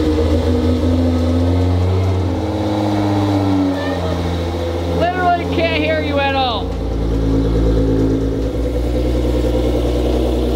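A GTR scooter engine runs steadily and revs up as throttle is given, its drone continuous throughout while people talk over it close by.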